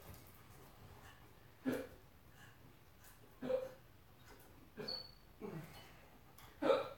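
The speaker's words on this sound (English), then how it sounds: "Oh, hiccups." Faint, sharp hiccups come one at a time at irregular intervals of about one to two seconds, close by in a quiet space. There is no other talking.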